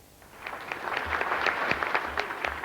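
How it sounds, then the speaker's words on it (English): Applause from Sinn Féin and Unionist representatives at the 1998 Good Friday agreement, a room of clapping hands building from quiet to steady, moderately distant and continuous. "applause from the representatives of Sinn Féin and Unionists, the Prime Ministers of Britain and Ireland"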